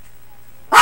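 A dog gives a single sharp, loud bark close by, bursting out at the very end after near silence, in a home setting.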